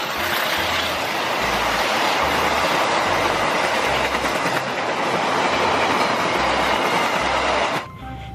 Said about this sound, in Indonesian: gerbong kereta api eksekutif nih dari KAI juga